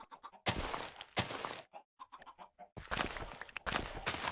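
Minecraft chickens cluck in short bursty calls, several loud close flurries separated by brief silences and softer single clucks.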